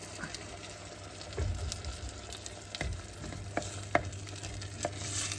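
Coconut milk and mung beans bubble in a pot with a faint hiss and soft popping, joined by a few louder knocks and scrapes of stirring. No voice is heard.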